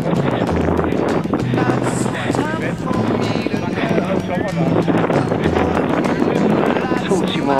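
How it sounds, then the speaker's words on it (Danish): Strong wind buffets the microphone on a mountain hike along an off-piste route to a peak, a loud, steady roar with gusty rumbling throughout, with people talking faintly underneath. "Og det blæser."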